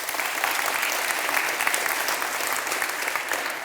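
A conference audience at a Python developers' event claps together, a full, steady burst of many hands that stays even in loudness across the few seconds without any voices on top.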